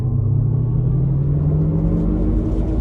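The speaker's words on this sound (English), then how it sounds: "So starting the test drive in the Hummer EV 3X." A GMC Hummer EV 3X electric pickup pulls away under power, giving a steady low road rumble with a faint rising motor whine that climbs smoothly over a few seconds, close and fairly loud, with no voices.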